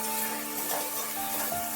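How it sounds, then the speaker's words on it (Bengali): Ivy gourd (kundru) sizzles steadily in a pan over a medium flame, a close, continuous frying hiss with soft stirring and no voices. "অল্প করে ভাজা হচ্ছে তো"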